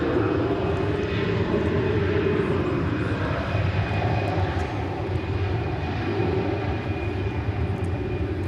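A fixed-wing airliner takes off from DFW Airport, bound for San Salvador, its engines making a loud, continuous roar that holds steady throughout with no talk over it.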